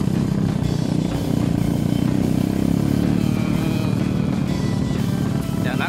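Engine running steadily in first gear, a loud continuous low rumble with little change in pitch, close by and alone throughout.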